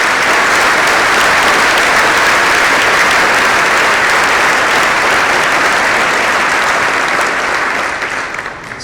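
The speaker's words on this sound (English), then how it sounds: "Let's give him a round of applause." Loud, sustained applause from a large crowd at a luncheon, steady clapping that fades slightly at the end.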